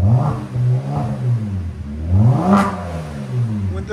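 A V6 engine exhaust revs up twice, each rise climbing in a loud, close, throaty growl before falling back to a rumbling idle.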